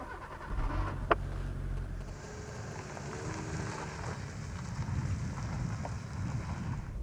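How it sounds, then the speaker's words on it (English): A Hyundai Accent drives on the road with a low, steady rumble of engine and tyre noise and some wind, heard from inside, with no talking. "So how does the Accent actually drive out on the road?"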